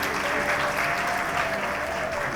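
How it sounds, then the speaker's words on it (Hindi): An audience at a girls' college Independence Day cultural programme applauds a student's award, a continuous even wash of clapping throughout, with a faint voice under it. "जोरदार तालियां करिए।"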